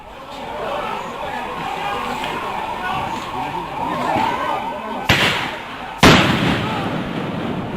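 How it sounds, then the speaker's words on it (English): Two sharp gunshot cracks ring out about a second apart during violence on the Assam-Mizoram border, over a dense, rumbling background of noise and voices. "Just listen to this gunfire."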